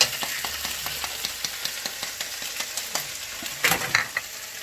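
Garlic hitting hot olive oil in a pan, a steady frying sizzle with repeated short scraping stirs, and a louder burst of crackle near the end, close and without talk.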